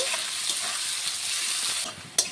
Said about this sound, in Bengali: পেঁয়াজ কুচি নরম না হয়ে আসা অবধি পেঁয়াজটাকে ভেজে নেব।